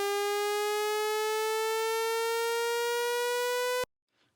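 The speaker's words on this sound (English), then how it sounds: "let's go ahead and automate the pitch bend" Synth pitch bend automation sweeping a bright, buzzy sawtooth-like tone slowly upward for almost four seconds before it cuts off abruptly into near silence, from a progressive house track.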